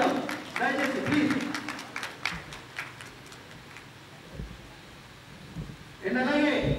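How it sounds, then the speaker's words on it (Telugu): Applause from a journalists' family gathering in LB Nagar, a spread-out patter of hands that rises, thins over several seconds and swells again near the end, mixed with background chatter. "సంతోషంతో మనం అందరం ఒకసారి చప్పట్లు కొడదాం దయచేసి ప్లీజ్."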